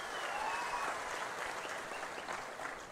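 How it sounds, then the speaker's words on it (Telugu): An audience of women at a political rally applauds loudly and steadily, a dense, continuous wash of clapping from a large crowd that holds for a few seconds, with no speech over it. "గట్టిగా చప్పట్లు కూడా చెప్పండి మా ఆడబిడ్డలు"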